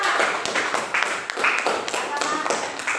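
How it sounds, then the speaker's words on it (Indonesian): A classroom group claps for a presenting team, a short burst of fairly rhythmic, close handclaps repeating at an even pace for about three seconds. "aplaus dulu untuk kelompok 2"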